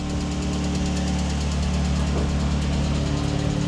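A Mercedes W210 engine runs loud and rough with its exhaust removed, a close, steady idle with a knocking, throbbing drone that holds level for several seconds, no talking.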